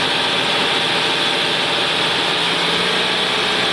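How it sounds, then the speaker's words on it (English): Ford Windstar 3.8L V6 idling steadily with a faint uneven stumble from a misfire caused by a bad coil pack, a constant broadband engine drone heard close up with no talk. "See if I can get it to misfire."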